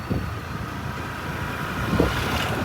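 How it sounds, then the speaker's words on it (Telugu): A motorbike carrying riders on the road, heard as a steady low engine rumble mixed with constant wind buffeting the microphone, with no talk. "సో బైక్ ఎక్కి అలా వెళ్ళిపోతున్నాం"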